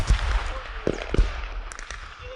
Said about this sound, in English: Yeah, mortars are incoming. Get there quick. Bunker down.